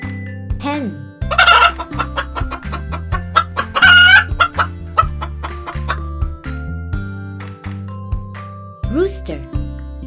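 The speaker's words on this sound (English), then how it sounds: "hen." A hen clucks in repeated short bursts over steady background music, with a rooster-like call rising near the end; a voice also speaks a word briefly.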